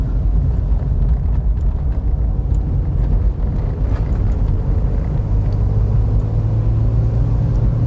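Peugeot 405 SLX with a TU5 engine heard from inside the cabin while driving: a steady, loud low rumble and road drone throughout, with a firmer low hum settling in for the final few seconds.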